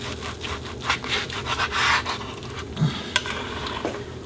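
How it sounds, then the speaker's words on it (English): A knife saws through a cured Anglo-Indian salt meat on a board, with repeated close strokes that rub and scrape steadily, plus a few sharper knocks toward the end. "I'm going to put that aside and try and cut a nice slice."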